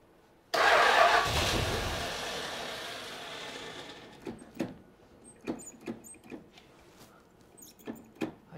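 A 1974 Plymouth Satellite engine cranks and tries to start, a loud burst of starter churning that fades over a few seconds, followed by scattered sharp pops and knocks as it fails to catch.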